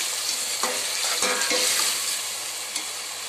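Spice masala frying in a pan for aloo matar pulao gives a steady close sizzle, broken by a few scraping stirs of the spoon, and eases off slightly toward the end.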